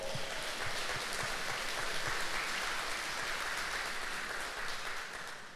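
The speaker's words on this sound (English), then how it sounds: "give them a round of applause" A State of the City crowd applauds the city's employees, a full, steady roar of clapping from a large audience that continues for several seconds and begins tapering off toward the end.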